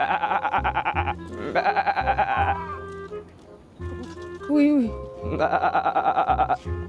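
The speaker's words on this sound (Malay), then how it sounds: "Baby goat." A baby goat on a farm bleats again and again, loud and close, in wavering calls with short gaps, while people talk nearby.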